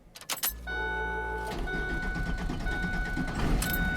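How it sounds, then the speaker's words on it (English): After a few jangling clicks, a repaired Ford F650 truck engine cranks and catches, then settles into a steady, close idle hum with a faint whine throughout. "So right there, as you can hear, the truck is running."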